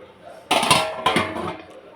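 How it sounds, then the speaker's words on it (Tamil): A metal lid set onto a cooking pan on a stove while making egg 65, two sharp clanks about half a second apart with ringing tails, fairly close. "இப்போ நம்ம இதுக்கு மேலே ஒரு மூடி போட்டு இதை மூடிக்கலாம்."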